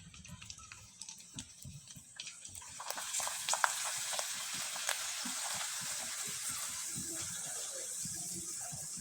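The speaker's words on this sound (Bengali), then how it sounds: "এবার আমি কিছুটা পাঁপড় আপনাদের ভেজে দেখিয়ে দিচ্ছি" Homemade moong dal papad fry in hot oil, starting with quiet scattered crackles and clicks, then swelling into a steady soft sizzle that carries on to the end.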